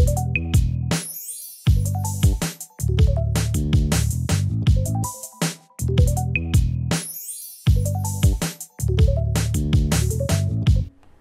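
Sampled hip-hop urban drum kit plays together with a funk bass line, a punchy looping groove of kicks, snares and bass notes with brief gaps, loud and upfront with no voices.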